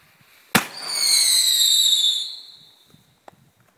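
Fireworks fired from a homemade shotgun-style grenade launcher give a sharp, loud bang followed by a long, rising whistling squeal that fades over about two seconds, then a faint pop.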